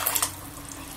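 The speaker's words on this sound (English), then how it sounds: "put a bit of water in there, make sure there's enough for one noodles" Water is poured into a small hot water kettle to cook noodles, giving a short splashing burst that fades into a softer trickle.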